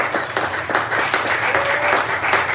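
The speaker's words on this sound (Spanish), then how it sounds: "Dale un fuerte aplauso a Él." Worshippers at a Wednesday church service give a strong round of applause, a continuous, fairly dense patter of clapping hands with occasional sharper claps, steady and close throughout.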